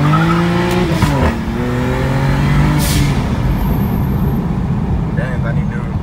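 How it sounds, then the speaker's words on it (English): A BMW E90 335i pulls hard through first and then second gear, with a loud rising engine note, a brief dip at the shift and a continuing climb. Tyre and road noise sit underneath, with no talking. "I'm gonna do just a little quick pull here. Just the first gear, just first and second."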